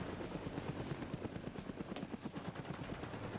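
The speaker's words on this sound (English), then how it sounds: "An Mi-24 Hind Russian attack chopper currently appears to be attacking the US convoy" A Russian Mi-24 Hind attack helicopter in a video game, its rotor thumping in a fast, steady beat with rattling gunfire mixed in, loud and continuous.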